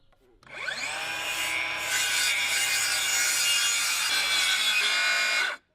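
Handsaw cutting a 30-degree angle in a wooden stringer for a swing set, a dense close rasping stroke that starts, builds and runs steadily for about five seconds before stopping abruptly.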